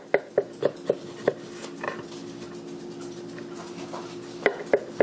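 Knife slicing through a freshly baked ham quiche with still-soft cheese, giving a run of sharp crisp cuts and taps close by, a cluster at the start, a quieter scraping middle, then three more quick strikes at the end.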